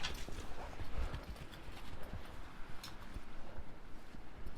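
Donkey hooves clip-clop in an uneven patter over rough ground outdoors, light and moderately close, with wind rushing against the microphone.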